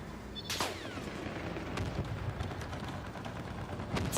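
Tank shell blasts and gunfire in the Call of Duty: Black Ops Cold War multiplayer game, a loud boom near the start followed by a dense, continuous wash of distant shots and explosions with a few sharp cracks.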